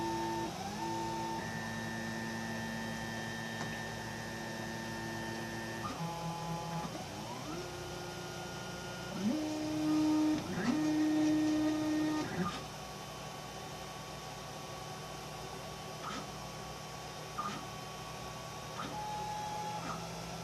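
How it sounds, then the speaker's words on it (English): A 3D printer homes its axes and reheats its extruder and platform, giving off sustained stepper-motor whines that shift pitch in distinct stages, with brief louder buzzing moves, over a steady hum and no voices. "it homed all the axis, and now it's heating the extruder and the platform back up again"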